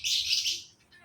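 A bird chirps close by in one bright, sustained burst of high twittering, loud and alone, then fades into a softer trailing call.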